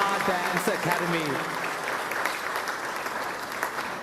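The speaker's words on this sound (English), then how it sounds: "How about another round of applause for our talented dancers of the Amar Dance Academy." An audience applauds the dancers of the Amar Dance Academy at a live event: steady, dense clapping that holds throughout, with a voice briefly heard over it at the start.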